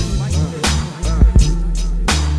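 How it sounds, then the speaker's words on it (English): A deep, punchy hip-hop bass line plays in a short looping pattern, with booming low notes and sliding pitch under a sparse beat, loud and up front, with no voices. "Or how about the bass lines that sound like this?"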